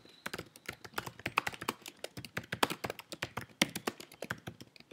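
Rapid, irregular keystrokes tap away on a computer keyboard while someone fills in an online form, close and crisp, with short pauses between bursts.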